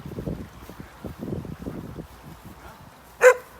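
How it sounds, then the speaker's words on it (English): A couple of dogs barking outdoors at a duck race finish line, a run of rough barks at moderate distance over wind noise, then one sharper, louder call near the end. "A couple of dogs now looking to eat these ducks"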